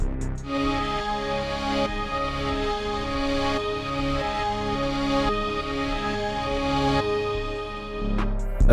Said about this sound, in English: First plugin we have Hive with this preset without effects that sound like this.